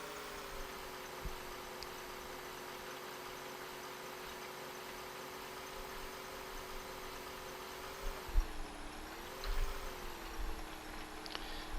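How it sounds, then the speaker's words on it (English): A truck engine in the Farming Simulator game drones steadily at a low, muffled level, then its pitch dips and climbs again as the turbo spools up, with a few faint knocks near the end. "You can hear the turbo spooling up in that."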